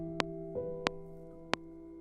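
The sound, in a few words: Spitfire Labs software instrument sound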